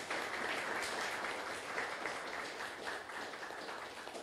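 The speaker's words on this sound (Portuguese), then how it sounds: "Queria pedir uma salva de palmas para a dona Fátima." A crowd at a book launch event in São Paulo applauds a guest with dense, continuous clapping that holds at an even level throughout. No voices come through it.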